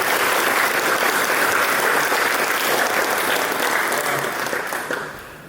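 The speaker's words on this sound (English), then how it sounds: "So I want to give my assistant coaches a round of applause." A banquet audience at a high school basketball event claps steadily for the assistant coaches, a dense, loud wash of applause that holds for about five seconds and then begins to fade.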